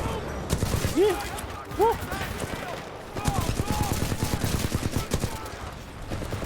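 Flatline rifle gunfire in Titanfall 2, rapid automatic bursts running through most of the clip at close range, mixed with game effects and brief excited vocal exclamations over the shooting.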